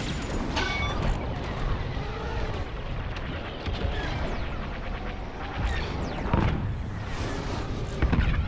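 A missile launch and explosions in the Star Wars Squadrons space-combat video game: a dense, continuous rumble of blasts, booms and weapon fire with repeated sharper bursts, loud and sustained throughout with no quiet gaps.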